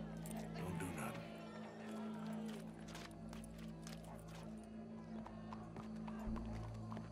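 Horse hooves clopping with a brief whinny in Red Dead Redemption 2, at a hanging scene with a crowd gathered, heard under a steady low drone and game ambience, moderately distant.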